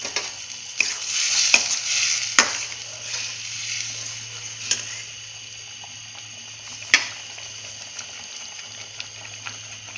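Semolina is stirred into boiling milk and water for upma, with a spoon scraping and clicking against the pot in irregular strokes over a low, steady bubbling hum.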